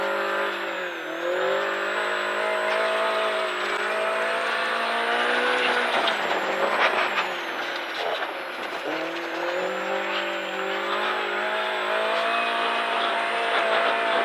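A large group of eight or nine cars drives past, engines droning steadily with rising and falling pitch as they pass close and loud, with no talk over them.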